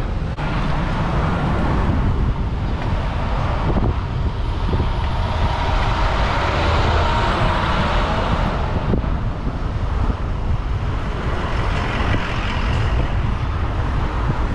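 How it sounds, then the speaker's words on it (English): Steady road traffic on a street with a hill, a continuous broadband roar with wind buffeting the microphone and passing vehicles blending into one constant wash, fairly loud throughout. "Ooh, traffic."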